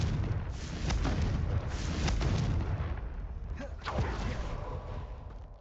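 Confringo explosion spells in Hogwarts Legacy go off as a run of loud, booming blasts with crackling rumble, close and dense across the whole stretch, several sharp bursts standing out.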